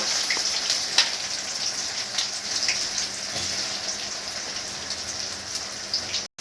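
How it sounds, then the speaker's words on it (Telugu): Bitter gourds frying in hot oil in a kadai, a bright crackling sizzle like light rain that stays steady and close, with a couple of faint knocks and a sudden break right at the end. "నేను ఇప్పుడు కాకరకాయలు మొత్తానికి కళాయిలో వేస్తున్నాను"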